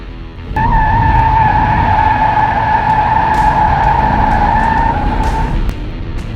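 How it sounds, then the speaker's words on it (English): A Chevy C1500 pickup truck pulls away hard on a test drive, tires squealing loudly with a sustained high whine over a rumbling engine for several seconds before easing off, close by and without talk. "So today, we get Project Kracken running. Let's go for a test drive."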